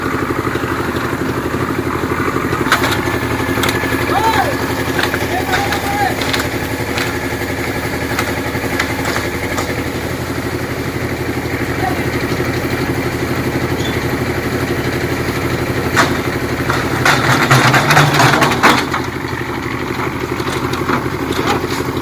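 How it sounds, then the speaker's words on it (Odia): An excavator's engine runs steadily as it works its bucket, a continuous mid-low drone with occasional clattering knocks and a louder surge near the end, no voices over it. "ଘନ ମେସିନ୍ ବକେଟ ଚଲାଉଛି।"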